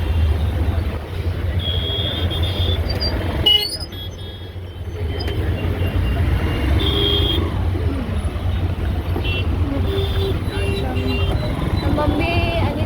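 Busy road traffic during a trip to a September fair in Bandra, with a steady low rumble of vehicles, engine drone and occasional horn-like tones, continuous and fairly loud throughout.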